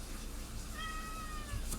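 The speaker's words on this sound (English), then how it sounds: "Sorry, the cat's being a pest." A house cat lets out a single drawn-out, wavering meow close by, with a faint rustle at the end and no talking.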